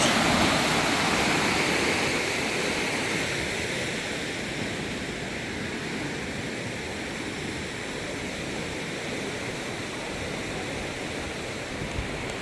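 Water rushes out through the partly opened gates of an emptying canal lock, a loud, steady roaring torrent that eases slightly over time, with no talk.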